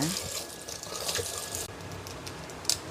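Tap water runs steadily into a sink as prawns are rinsed under it, a close, continuous splashing hiss with small bumps of handling and a voice speaking over it.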